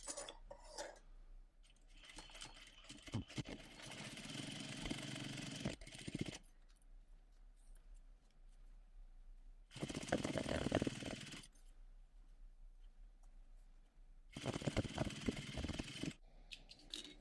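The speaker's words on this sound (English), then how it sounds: "You can absolutely top stitch from this side." A sewing machine top stitches about 1/8 inch along bias tape binding on a bag, running in three steady bursts of whirring stitching with quiet pauses between them.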